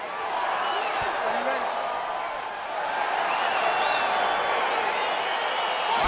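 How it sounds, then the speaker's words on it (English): A virtual UFC 4 arena crowd murmurs and cheers steadily as a fight begins, a continuous wash of distant voices with a few whoops rising above it. "Crowd getting excited as this fight gets underway"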